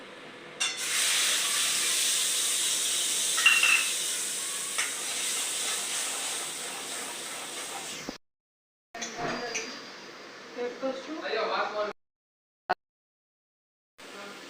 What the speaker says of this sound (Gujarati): ચાલો સૌથી પહેલા તો આપણે કાંદા કકડાઈ નાખીએ.